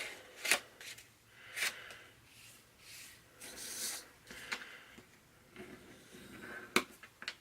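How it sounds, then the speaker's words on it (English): Paper being folded along score lines for an expandable folder mini album insert, heard as soft crisp creases and rustles with a few sharp snaps, close and quiet, with no talking. "So the first thing you do is fold on your score lines."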